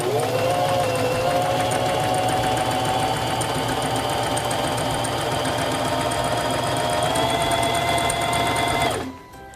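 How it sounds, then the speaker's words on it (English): A sewing machine runs steadily on a test piece of fabric, a close, even mechanical hum with a rhythmic needle chatter that stops abruptly near the end. "press your foot control to begin sewing"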